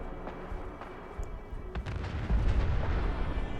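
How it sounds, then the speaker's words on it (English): Explosions go off in a video game as flaming vehicles blow up, a few sharp distant bangs followed by a heavier rumbling blast that swells and lingers near the end. "that was a different explosion"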